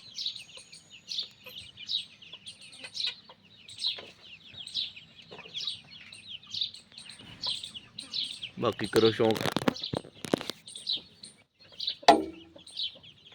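Chicks chirp in quick, high repeated peeps around a hen, which gives occasional low clucks, fairly faint and close. Someone speaks briefly partway through, and a short burst of rustling handling noise follows.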